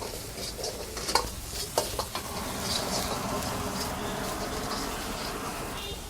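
Chopped onion frying and being stirred in hot oil for a chicken fried rice gravy, a steady close sizzle with a few sharp clinks of a utensil against the pan early on.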